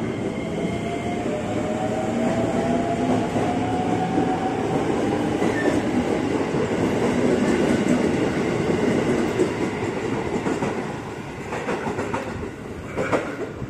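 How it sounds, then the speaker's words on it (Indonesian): A ten-car commuter train pulls out of Depok station and rolls steadily past nearby, its wheels rumbling and clacking on the rails with faint squeals. The sound stays loud and continuous throughout. "Jalur 1 komuteran tujuan Manggarai diizinkan berangkat."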